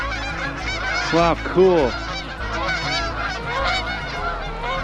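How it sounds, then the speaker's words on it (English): A flock of geese honks outdoors on a very windy day, with many overlapping calls close by, swelling in short bursts over gusty wind noise while a person briefly speaks. "Whoa, look at all the geese."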